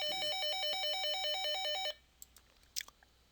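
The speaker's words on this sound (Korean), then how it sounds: "전화가 와서" A telephone ringtone sounds during a lecture: a bright, repeating electronic melody rings steadily for about two seconds, then cuts off. Faint clicks and rustles follow in a quiet room.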